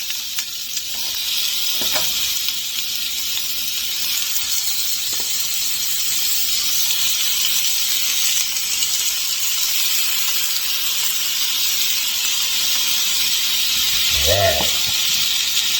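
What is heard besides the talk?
sausages sizzling in a hot pan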